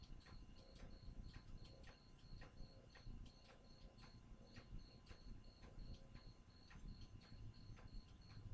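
A cricket chirps steadily outside, far from the house, in a regular rhythmic pulse over a low rumbling background, with no talking.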